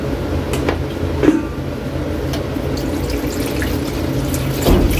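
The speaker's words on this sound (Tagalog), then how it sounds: "Tubig pa, maglagay tayo ng tubig." Water splashes and trickles steadily into a pot of thickening sauce for a tuna steak dish, a close, continuous pour with a few louder spatters and no speech.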